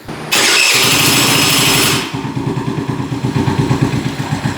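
An old thrift-store scooter engine fires up with a loud rising blast, then settles into a steady, slightly uneven low idle, close by and with no talking.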